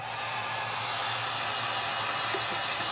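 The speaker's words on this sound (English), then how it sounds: "Get my heat gun." A steady, loud blowing roar of hot air from a heat gun, continuous and unbroken with a low hum underneath, running on its own without talk.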